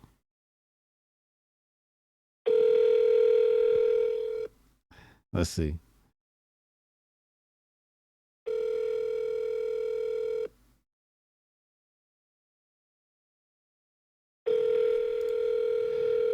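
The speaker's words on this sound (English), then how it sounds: "Please state your name after the tone, and Google Voice will try to connect you." Google Voice call tone on a telephone line: steady ringback bursts, about two seconds each, repeat three times with silence between, clear and alone, with a brief spoken murmur after the first burst.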